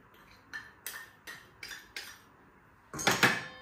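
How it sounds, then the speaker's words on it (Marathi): Wheat dough is put into a metal bowl with a series of about six sharp metallic clinks at a steady pace, then a louder clattering scrape, close and with no talk. "इथे मी आता जी कणिक आहे ती एका भांड्यामध्ये काढून घेते"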